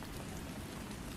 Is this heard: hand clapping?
no